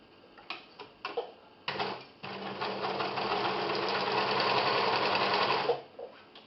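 A few short stitching bursts, then an overlocker runs steadily at speed sewing a seam for several seconds before stopping, close and clear.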